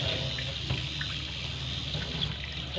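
Tap water runs steadily into a sink, a continuous close, fairly loud splashing stream while fish is being prepared in a home kitchen.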